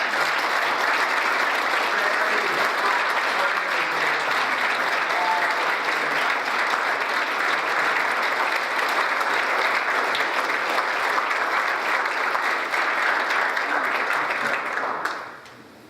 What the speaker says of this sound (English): we have one major applause yet to go, and that is for Sonny for pulling this all together